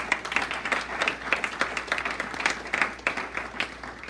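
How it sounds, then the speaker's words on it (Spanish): A church congregation applauds steadily during a worship service, a dense, continuous patter of many hands at moderate distance with no break. "Dele fuerte aplausos."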